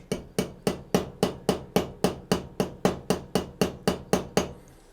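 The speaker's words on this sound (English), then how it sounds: "Take your hammer again and just gently" About fifteen light hammer taps on a harmonica reed rivet, evenly spaced and steady, crisp and close with nothing else audible.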